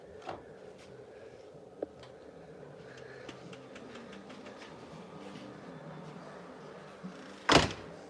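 A door is opened to go outside, ending in a loud, sharp clatter of the latch and frame after several seconds of quiet indoor shuffling and small knocks.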